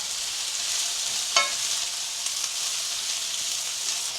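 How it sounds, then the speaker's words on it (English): Peppers and onion sizzle steadily in a frying pan, a broad continuous hiss throughout, with a brief clatter of stirring or a utensil hitting the pan early on; no one speaks. "So now into the pan with the peppers and the remaining onion that didn't quite make it the first time."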